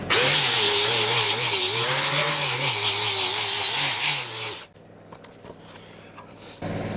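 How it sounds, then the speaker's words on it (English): An angle grinder works a weld crack on a drill rig, its loud sustained whine wavering in pitch for several seconds before cutting off abruptly into quiet clicks and handling noise. "I'm going to grind that out now"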